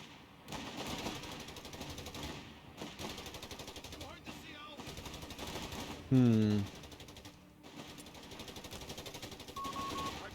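Sustained rattling bursts of .30 cal machine gun fire in the Company of Heroes 3 Italian campaign, long continuous strings broken by short gaps, with a louder blast and a voice talking over the gunfire.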